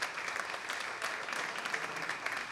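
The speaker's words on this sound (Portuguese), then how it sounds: "peço uma salva de palmas" An audience at a committee hearing gives a round of applause for a promoter, a steady wash of clapping hands at moderate level with no voices over it.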